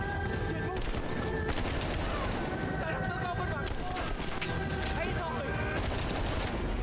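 Rapid bursts of gunfire and automatic weapon fire in Call of Duty: Black Ops Cold War, a dense, loud, continuous fusillade with game music and effects beneath, while players talk over it.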